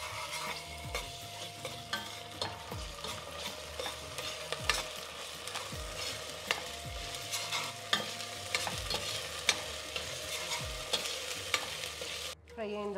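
Ginger garlic paste fries in a pot for mutton soup, a steady soft sizzle broken by regular scraping clicks of a spoon stirring, close by, with no voices.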